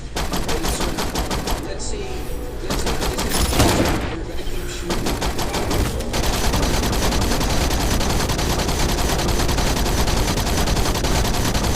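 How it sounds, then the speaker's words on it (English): Sustained automatic gunfire aimed at a boss in a video game, loud and unbroken rapid shots rattling on for seconds with a brief shift in tone partway through. "let's say this is the boss and you're gonna keep shooting"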